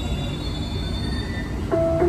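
A metro train sits at a station platform, its steady loud rumble underlaid by faint tonal whines, with a chime-like electronic tone sounding near the end.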